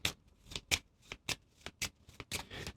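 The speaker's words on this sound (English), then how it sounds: "so let's shuffle our deck." A deck of game cards is riffle-shuffled at a tabletop game session, with a series of sharp, close bursts of flicking cards coming in quick succession.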